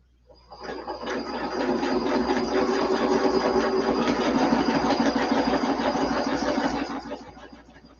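A sewing machine stitches the corner of a quilt block in one steady, close whirring run of about six seconds that rises and then winds down, with no talking.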